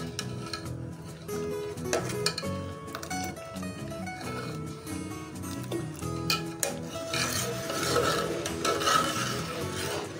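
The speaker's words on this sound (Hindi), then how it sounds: "ऐसे करके चलाते रहना है बीच बीच में" Milk thickening in a pan for paneer kheer is stirred continuously, giving close, rhythmic scraping and rubbing strokes that grow denser and bubblier toward the end.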